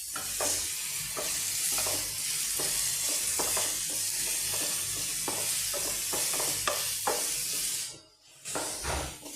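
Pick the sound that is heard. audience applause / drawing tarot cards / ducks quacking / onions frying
onions frying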